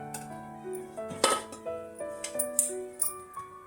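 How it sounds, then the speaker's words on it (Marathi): A pressure cooker's metal whistle weight clinks and rattles against the lid as it is removed, a few sharp ringing taps close by with light handling noise between them. "कुकरची शिट्टी मी काढून घेतली"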